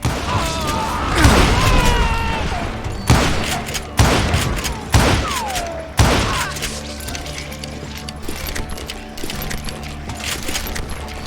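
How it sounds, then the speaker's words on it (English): Repeated gunfire from hired gunmen in the Western shooter game Call of Juarez Gunslinger, a burst of shots followed by several sharp, loud reports spaced about a second apart over game ambience. "Sounds like Garrett hired a whole regiment of hired guns."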